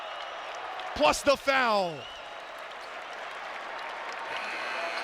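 A basketball crowd in the Dome roars and applauds after Chris Bell's right-handed slam dunk, a loud burst near the start that settles into steady, sustained crowd noise beneath a commentator's voice.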